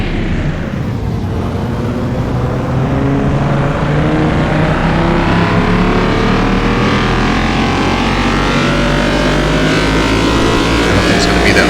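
A Jaguar XJ220 engine in the Car Mechanic Simulator 2021 video game revs loudly and steadily, its pitch sweeping upward and holding high throughout, with a voice talking over the engine roar.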